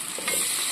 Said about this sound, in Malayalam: ഇനി നമ്മൾ വെണ്ടയ്ക്ക വേറെ വഴറ്റാൻ പോവാണ്.